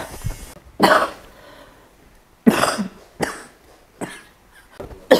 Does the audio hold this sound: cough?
yes